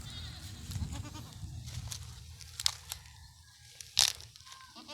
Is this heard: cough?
no